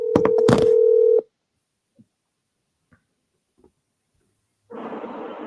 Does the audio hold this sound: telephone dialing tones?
yes